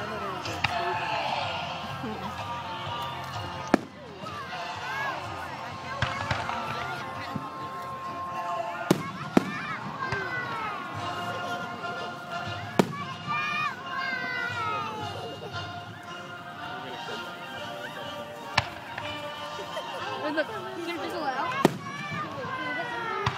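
Fourth of July fireworks burst now and then, sharp bangs scattered irregularly over a long stretch, while people talk and exclaim almost continuously in the foreground between the booms.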